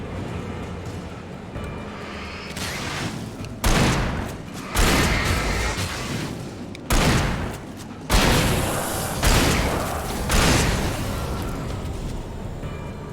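Bursts of heavy gunfire and booming blasts in the video game Alan Wake, several loud volleys separated by brief lulls.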